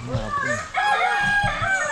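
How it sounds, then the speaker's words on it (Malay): A chicken on a strawberry farm in the Cameron Highlands crows and clucks loudly and close by in a short burst of calls. "Ayam."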